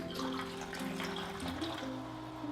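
Alkaline water poured into a row of containers, close gurgling and splashing pours with brief shifts as the stream moves from one vessel to the next, steady and fairly loud.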